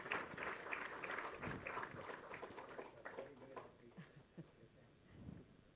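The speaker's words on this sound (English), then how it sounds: "Ladies and gentlemen, let's give them a huge round of applause." An audience applauding at a defence dialogue event, dense clapping that rises loud at first and then thins out and fades, with a little voice noise mixed in.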